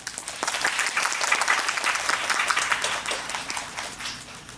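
An audience applauding during a stage greeting after a performance, a sustained wash of many hands clapping that swells, holds and then tapers off toward the end, with no talk.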